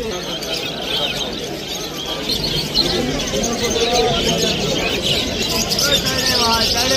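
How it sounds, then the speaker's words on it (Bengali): Caged lovebirds and pineapple conures at a bustling pet bird market in Kolkata give scattered chirps and calls mixed into a dense crowd murmur. A person speaks close by over the birds. "দেখতে পাচ্ছ লাভবার্ড, দেখতে পাচ্ছ বন্ধুরা পাইনাপেল কনুর রয়েছে এখানে।"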